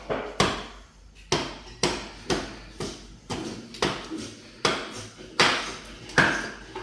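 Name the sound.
axe carving a wooden spoon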